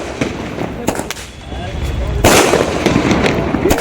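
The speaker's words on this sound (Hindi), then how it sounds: "वर्ल्ड कप जीतने के बाद जमकर आतिशबाजी हुई है" Fireworks set off at Patel Maidan in Samastipur to celebrate a World Cup win crackle and pop in a dense run of bursts, swelling into a louder continuous barrage, with crowd noise underneath.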